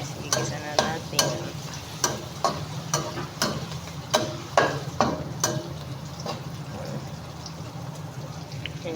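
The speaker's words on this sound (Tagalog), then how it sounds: "Ayan guys, igisa na natin" Bay leaves and black peppercorns being sautéed in a pan for pork adobo, a steady oily sizzle punctuated by a regular series of sharp spatula taps and scrapes, close and fairly loud.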